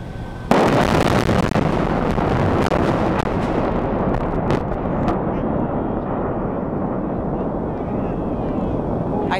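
Explosive demolition of the Fort Steuben Bridge, brought down by 490 linear-shaped charges firing in a fraction of a second, hits as a sudden loud blast followed by a sustained rumbling roar and crackle under crowd noise.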